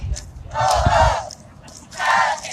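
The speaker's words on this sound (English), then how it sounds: "Crowd's getting bigger and bigger." A rally crowd in Clint, Texas, cheers and shouts in two loud bursts separated by a short lull, with a low rumble of murmuring underneath.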